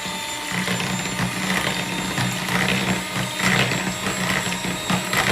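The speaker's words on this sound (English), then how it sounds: "again whisk it" Brownie batter is whisked in a bowl with a continuous rhythmic scraping and swishing of quick even strokes, close and steady throughout.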